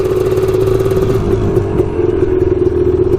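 A Honda TRX250R two-stroke ATV engine at high revs in fourth gear, a loud, buzzing, sustained drone with a steady raspy pitch and slight fluctuations, heard close and alone.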